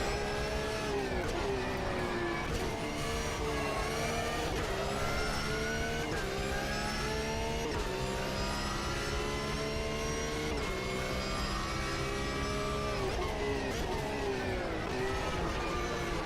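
A race car engine in the Automobilista 2 racing game drones continuously at high revs, its pitch rising and dropping through repeated gear shifts, loud and steady throughout.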